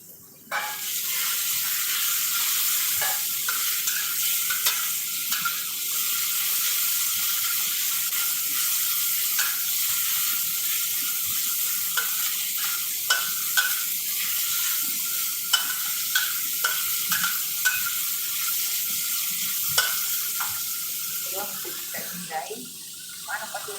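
Pork pieces frying in a pan with a little oil for Filipino bihon, a steady loud sizzle running throughout with frequent scraping and clinking of stirring, no talking.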